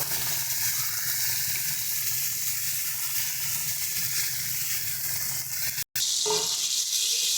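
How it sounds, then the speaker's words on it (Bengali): Shrimp sizzling in hot oil in a pan for a Bengali coconut posto chingri dish, a steady bright crackling hiss that holds loud throughout, briefly cut off near the end before resuming with a few softer pops. "চিংড়ি মাছটা দিয়ে এটাকে সুন্দর করে ভেজে নেব।"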